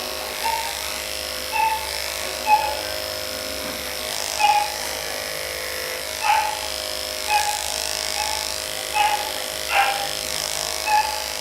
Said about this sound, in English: I'm going to start to shave so I can visualize the vein.